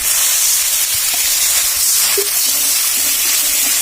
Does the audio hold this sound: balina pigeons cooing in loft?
no